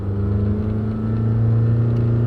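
A 1993 turbocharged Toyota imported from Japan, floored while climbing a hill, gives a steady, strained engine drone with a low rumble heard from inside the car, with no talk over it.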